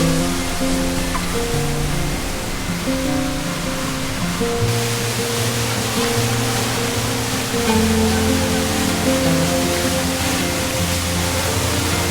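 El Chorrero waterfall in Chera runs at a strong flow after heavy rains, giving a loud, steady roar of rushing water that carries on without a break, with no voices.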